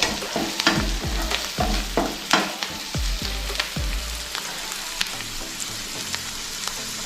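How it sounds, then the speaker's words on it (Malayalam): Noodles with Yippee masala are stirred in a pan over a steady sizzle, with a series of rhythmic low thumps and scrapes from the utensil in the first half that ease into gentler stirring, close up and without speech. "ആ മസാല ഇട്ടിട്ട് നമുക്കൊന്ന് നന്നായിട്ട് ഇളക്കിയെടുക്കാം"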